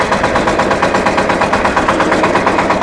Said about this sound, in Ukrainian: Так, заводимо. Заводиться з півоберту.